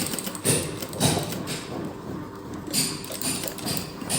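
Sewing machine stitching along a fabric strip for a sleeve, a steady mechanical whirring with rhythmic clicking pulses throughout, moderately close and running alone without talk.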